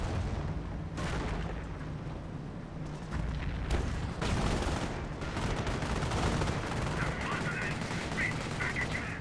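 Artillery barrage in Company of Heroes, a World War II strategy game, with dense, continuous booms and gunfire rumbling steadily throughout, a few sharper blasts standing out near the start.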